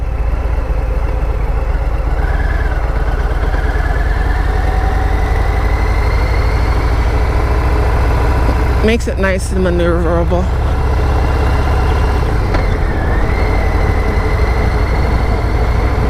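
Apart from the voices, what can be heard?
V-twin motorcycle engine idling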